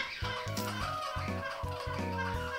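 A Pionus parrot calls loudly indoors in a run of about five or six harsh, repeated squawks, close and strong, with no talking.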